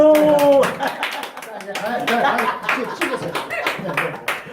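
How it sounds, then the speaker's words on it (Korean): A burst of hand clapping from a small group, fairly close, mixed with chatter and a little laughter throughout. "박수!"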